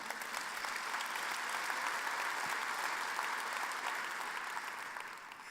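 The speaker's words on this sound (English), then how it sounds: "yeah, you can applaud." A conference general-session audience applauds, a broad even wash of clapping from a large hall, steady and moderately distant, tapering slightly at the end.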